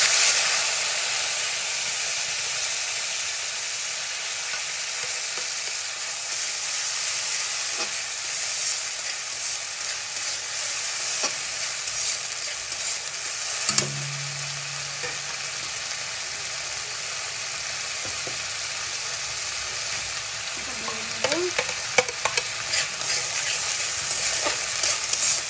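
Spice paste of ground cumin, ginger and tomato with a little chili powder frying steadily in a pan, a continuous close sizzle and hiss with occasional stirring scrapes and clinks toward the end.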